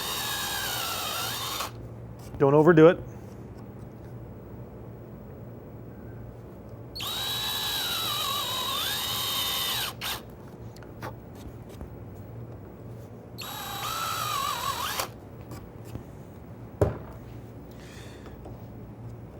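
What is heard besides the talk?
power drill boring screw counterbore in wood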